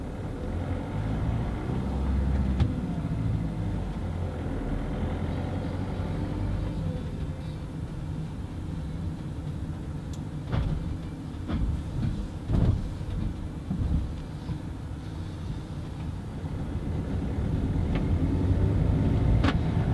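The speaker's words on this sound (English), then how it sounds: "we're going to go for a little drive" A car fitted with a Synergy Automotive cruise control and speed limiter drives along a road, a steady low rumble of engine and tyre noise with occasional knocks and bumps, no talk.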